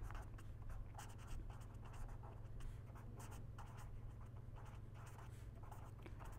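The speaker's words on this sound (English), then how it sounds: "let me write down rapid payback period" Marker or chalk writing on a board during an energy economics lecture, a run of quick scratchy strokes at a steady pace over a low background hum, with no talking.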